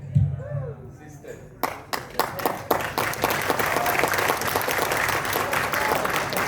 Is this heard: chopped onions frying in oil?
no